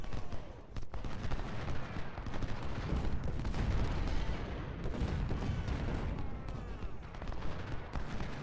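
Dense, continuous battlefield din of Civil War-era artillery and massed musket gunfire from the strategy video game Ultimate General: Civil War, booms and rapid shots overlapping loudly throughout with no pauses.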